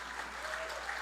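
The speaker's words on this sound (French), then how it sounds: "Je pense qu'on peut leur donner encore une bonne applaudissement." Applause from a live podcast audience, a steady wash of clapping filling the whole second at moderate loudness with no voices over it.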